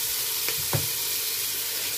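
Chopped onions sizzle in hot oil with garlic and green chili, a constant loud frying hiss with a couple of brief stirring clinks near the start.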